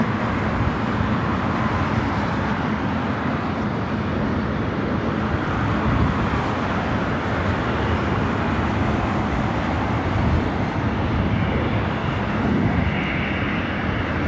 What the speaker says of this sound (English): It's the second KLM flight of the day. Both of them taking off here on the north side.